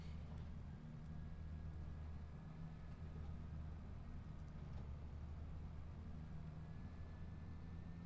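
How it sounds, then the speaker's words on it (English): A tractor engine in the video game Farming Simulator 25 drones steadily at a constant low pitch, close and continuous, with no talk over it. "I'm not used to this tractor either."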